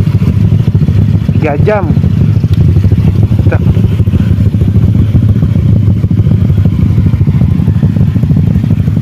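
Bored-up Honda Vario scooter engine idling steadily with a low rumble, joined by other bore-up Vario and Scoopy scooters during a touring stop in East Java, with people talking nearby throughout.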